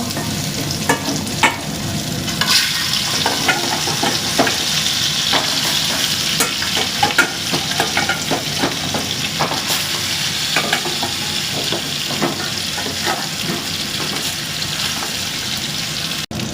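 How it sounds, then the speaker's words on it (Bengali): Turmeric-coated catla fish pieces fry in a pan on a stove, a loud, continuous close sizzle and crackle broken by frequent sharp spatters and stirring clinks throughout. "মাছগুলো হলুদ মাখিয়ে নিয়ে প্যানটা উনুনে বসিয়ে দিয়ে মাছটা ভেজে নেব"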